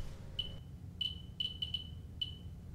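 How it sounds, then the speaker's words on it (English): A radiation detector emits short high-pitched beeps at irregular intervals, some in quick pairs, over a low background rumble. "Beeping becomes a little more pronounced around the smoke detector"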